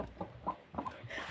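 Chickens cluck in short, close bursts, a few soft calls in quick succession.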